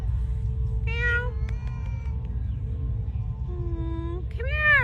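A stray cat, seemingly in poor condition, meows outdoors near a house under roof repair. Two or three plaintive meows stand out clearly over a low steady rumble.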